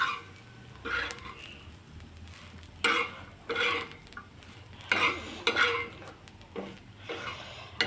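Masala spices roasting in a dry pan for a mutton curry paste, stirred in a few separate bursts of scraping and rustling against the metal, close by, with quiet gaps between.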